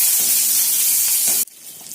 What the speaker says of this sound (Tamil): கொஞ்சோண்டு வெந்தயம் போட்டுட்டு காஞ்ச மிளகா குண்டு காஞ்ச மிளகா கருவேப்பில்லை போட்டுட்டு வதக்கி விடணும்